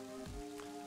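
Rain sound effect in the video game Mother 3, a brief, faint patter of raindrops over a steady tonal background, with no voices.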